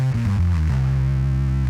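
Bass guitar run through a Boss ODB-3 overdrive cranked high, giving a thick, fuzzy, indistinct tone: a few quick low notes sliding into one long sustained droning note, loud and close, alone without voices.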